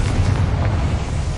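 Confringo blasting spell from the Hogwarts Legacy video game, a loud rumbling explosion with a deep booming low end that rolls on steadily for about a second and a half, no talking over it.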